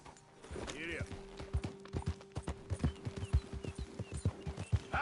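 A horse gallops in Red Dead Redemption 2, its hooves drumming in a quick, steady rhythm close by while a rider calls out over the pounding.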